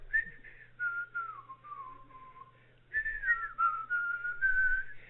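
A person whistles a tune from Disney's animated Robin Hood, a clear, fairly loud melodic line with sustained and gliding notes, pausing briefly midway before the melody resumes.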